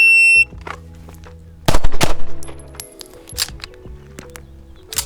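Sharp, loud gunshots from a budget 2011 pistol fired at a plate rack, several quick reports in two clusters separated by a pause, the second a rapid string of shots.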